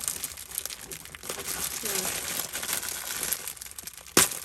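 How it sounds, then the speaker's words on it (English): Paper bag topper held by staples and hot glue being torn open, with crinkling and rustling paper throughout and a sharp rip near the end, a voice talking softly alongside. "So I'm going to just tear this open."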